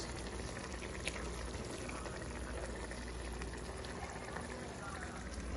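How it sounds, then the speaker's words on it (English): Lobster tails, corn and sausage simmering in sauce, a continuous soft bubbling and burbling from a pot, faint and steady throughout. "I'm gonna fold them and make them simmer down in the sauce"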